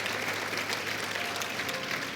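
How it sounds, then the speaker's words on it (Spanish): Church congregation applause during a sermon, a dense, even wash of clapping heard throughout, moderately loud and without any talk over it. "Dale un aplauso al Señor."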